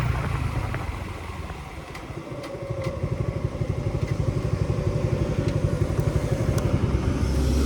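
A Suzuki Gixxer motorcycle brakes from about 60–65 km/h with the clutch still engaged: a close, steady engine drone with a rhythmic pulsing throb that dips slightly before evening out as the bike slows.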